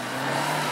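A Suzuki Swift ZC33S runs through a gymkhana course, its engine giving a brief, loud, steady droning note at close range.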